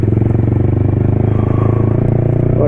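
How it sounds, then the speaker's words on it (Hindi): A motorcycle with its dB killer removed from the exhaust gives a loud, close, rapid pulsing exhaust rumble that stays steady and continuous throughout. "डीबी किलर निकलते ही भाई बाइक का साउंड बहुत तेज हो चुका है"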